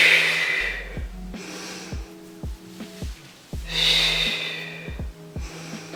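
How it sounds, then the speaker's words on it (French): Deep exercise breathing during a floor workout, with repeated forceful inhales and exhales in an uneven rhythm, close and fairly loud, over sharp intermittent clicks and thumps. "Inspirez ici et expirez."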